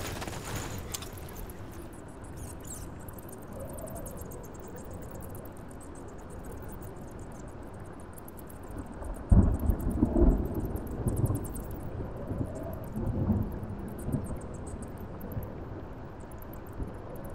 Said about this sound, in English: Great. A storm.